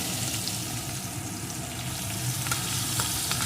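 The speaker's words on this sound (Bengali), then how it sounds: "এখন রসুনটাকে একটু ভেজে নেব" Crushed garlic frying in hot oil for a chicken kosha with small potatoes, giving a steady, close sizzle with light stirring scrapes throughout and no talking.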